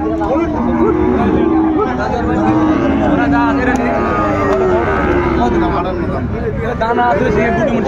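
A Sahiwal bull calf moos repeatedly at a busy cattle market, with other cattle calling and a steady crowd murmur and talk underneath.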